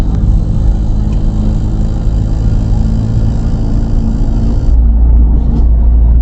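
Cabin of a 2024 Toyota Tacoma at 45–55 mph, a steady low engine and road rumble with a faint high whine, shifting slightly near the end.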